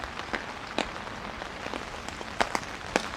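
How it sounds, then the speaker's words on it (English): Rain falls steadily on a campsite in the woods with a tarp overhead, a soft continuous patter broken by a few sharper drops landing close by. "Can see the rain coming in."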